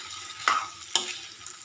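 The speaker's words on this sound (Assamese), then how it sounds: "গোটেইখিনি দি মিক্স কৰি জলকীয়া দি ভাজিছোঁ" Mixed vegetables with green chili (peas, potato, radish, kohlrabi) being fried and stirred, two sharp scraping stirs over a steady low sizzle, close and alone with no talking.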